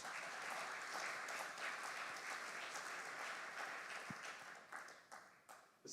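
An indoor audience at an architects' round-table discussion applauds steadily for several seconds, a dense patter of many hands that thins and fades toward the end.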